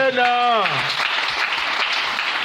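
A church congregation bursts into loud, sustained applause and cheering to acclaim the Lord, the dense clapping swelling right after a sung or spoken phrase fades out and continuing steadily to the end.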